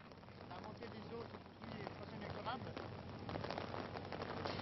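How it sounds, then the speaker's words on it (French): Heavy rain pours steadily over Redon, Brittany, during a winter flood, a dense hiss filling the scene with faint indistinct voices underneath. "la pluie recommence vraiment de tomber très très fort sur Redon"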